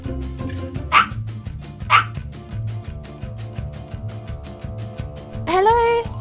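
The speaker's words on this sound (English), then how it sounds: "Hey, what's all that barking?" Two clear dog barks ring out near the start of a game scene, followed by a drawn-out rising whimper or yelp near the end, all over a steady looping music bed.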